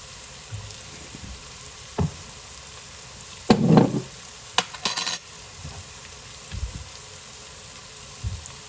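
Food sautéing in a pan with salt while it is stirred: a soft, steady sizzle broken by scattered scraping stir strokes and light clinks, close and fairly quiet.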